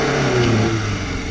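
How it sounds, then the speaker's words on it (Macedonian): A Yugo car engine revving hard, a loud close-up mid-pitched roar that rises and wavers over about a second. "Како се гори мотор на Југо за 1 минута?"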